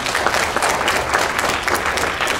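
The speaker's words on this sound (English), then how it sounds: "But the round of applause for the lady." Audience members at an Animefest 2015 stage fighting workshop clap in a steady, dense round of applause, loud and close throughout with no pause.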